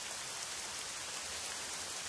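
Steady, faint rain hisses evenly in a horror video game, a constant wash of falling water with no other sounds.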